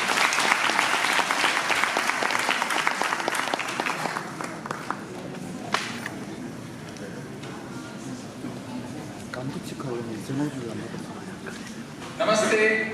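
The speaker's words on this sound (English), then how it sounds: "A warm round of applause." An audience at a university lecture event breaks into warm applause that lasts a few seconds and then fades. A voice then speaks in a quieter hall, with a brief burst of clapping near the end.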